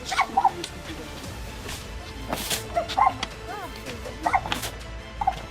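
Several dogs bark and yip in short bursts at a moderate distance, mixed with people talking and outdoor background noise.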